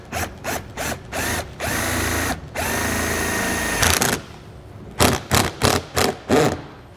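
A cordless power drill drives a screw into the bead of a Solera slide-out awning on a 2022 Jayco RV, with short bursts, one long sustained whir, then a rapid series of brief pulses, loud and close.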